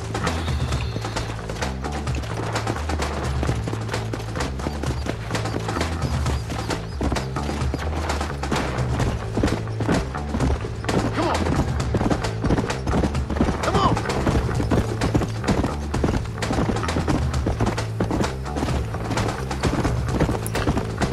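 Steady clip-clopping horse hooves trot without pause in Red Dead Redemption under a dense, busy bed of music and game effects, loud throughout.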